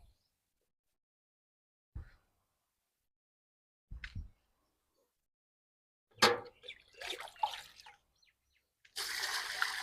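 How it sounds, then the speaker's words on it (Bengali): Water poured into a water lily pot in a rooftop garden, heard as a few short separate splashes early on, then a longer burst of trickling and splashing, and finally a steady close pour to the end. "চারি ভর্তি করে পানি দিব।"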